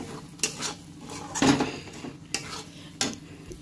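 Spoon stirring spices and amchur powder in a pan, with several distinct scraping clinks against the metal over a faint sizzle and no talking.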